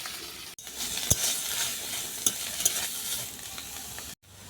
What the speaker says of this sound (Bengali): এর মধ্যে তরমুজটাকে হালকা করে আমি ভেজে নেব।